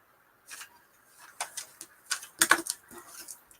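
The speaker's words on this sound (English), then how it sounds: "You're typing in the chat and I was typing via instant messenger, Missy." Clicks of typing on a keyboard come in short irregular bursts, close and fairly quiet, with brief pauses between clusters of keystrokes and near silence at the start.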